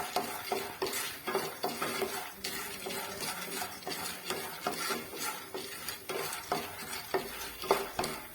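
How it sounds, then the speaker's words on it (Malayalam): A spoon stirs popcorn kernels with masala in a pot on the stove, rhythmic scraping and clinking strokes over a light sizzle, close and steady with no talk. "എന്നിട്ട് കോൺ നന്നായിട്ട് ഇളക്കി കൊടുക്കാം"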